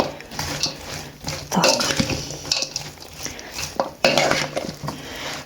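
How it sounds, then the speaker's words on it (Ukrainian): A utensil stirs garlic through a Korean-style tomato salad in a bowl, giving irregular scraping and clinking strokes of dish and cutlery that come in bursts. "Гарно перемішуємо, щоб часничок розподілився по всьому"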